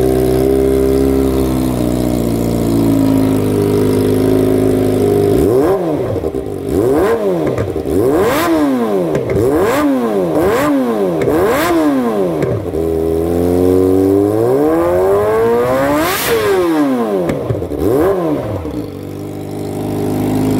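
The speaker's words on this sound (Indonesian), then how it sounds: "Mantap, knalpot Yakuza. Yakuza GP untuk Kawasaki ZX25R." Kawasaki ZX25R motorcycle fitted with a Yakuza GP exhaust, idling loudly, then blipped through a series of sharp, high-pitched revs that rise and fall repeatedly before one longer scream.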